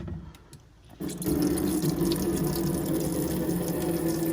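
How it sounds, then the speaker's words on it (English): A caravan's water pump, in a 2001 Swift Archway, starts up about a second in, feeding the sink tap as water runs steadily and loudly with a constant pump hum and no talking. "So the pump for the water, you just push on like that, and then we'll go over to the sink."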